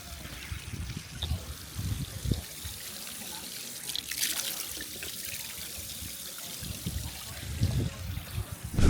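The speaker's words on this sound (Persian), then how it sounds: "رفتم آب بخورم، دست گرفتم زیر این آبی که میومد و با دست خوردم." Water runs and splashes from an old public drinking fountain in Kos Town, Greece, a close, uneven trickling flow that is sometimes broken by hands cupping the stream.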